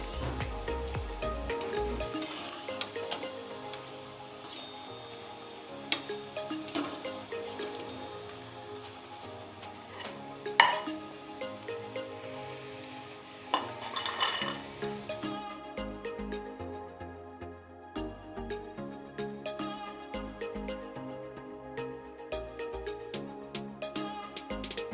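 Pieces of shankarpali dough fry in hot oil with a steady crackling sizzle, broken by sharp metallic clinks and scrapes of a utensil, and the frying grows quieter toward the end.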